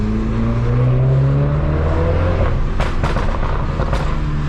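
MINI JCW F56 hatchback engine revving hard in second gear on a nighttime street, a steady loud drone followed by a burst of sharp exhaust pops and crackles as the throttle lifts around 5,000 RPM.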